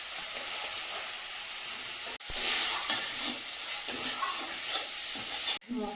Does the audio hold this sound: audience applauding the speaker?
no